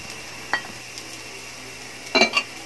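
Carrots sautéed in a pan for a cabbage-and-egg dish, a faint steady sizzle broken by a couple of brief metallic clinks of a utensil against the pan.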